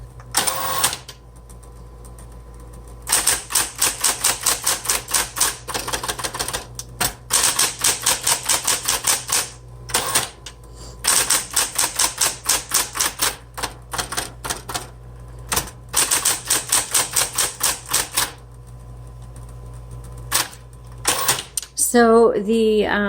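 Typing on a 1970s Coronet Super 12 Coronomatic electric typewriter: rapid bursts of sharp key strikes in repeated runs separated by pauses, loud and close, ending with a short stretch of talk.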